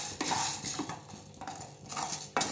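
Black urad dal dry-roasted on low heat in a pan, with grains rustling and a metal ladle scraping and clinking against the pan in short uneven strokes.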